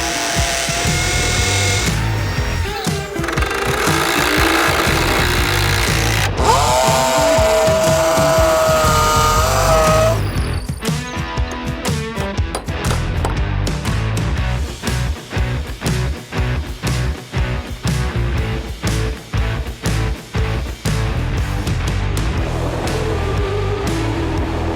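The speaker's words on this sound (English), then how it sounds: "I'm going to use a hammer drill to create the pilot holes for these" A hammer drill roars continuously, then shifts into a rapid rattling, hammering pattern as it bores pilot holes into concrete, loud and close throughout.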